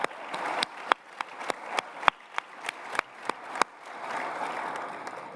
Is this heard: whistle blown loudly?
no